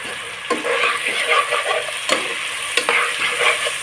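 Spiced potatoes with banana flower sautéing in a pan, a steady loud sizzle with a spatula stirring and scraping the pan a few times, close up and with no voices.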